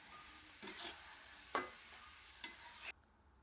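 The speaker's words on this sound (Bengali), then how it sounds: "আলুগুলো সুন্দরভাবে লাল করে ভাজতে হবে, তাই আমি সুন্দর মতো ভেজে নিচ্ছি।" Potatoes frying in a pan, with a constant soft sizzle and three sharper stirring scrapes before the sound cuts off.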